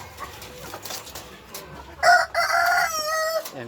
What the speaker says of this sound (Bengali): এখানে একটা রাতা আছে আর একটা মুরগি আছে।